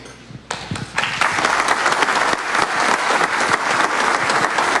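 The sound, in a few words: audience applauding the governor after his oath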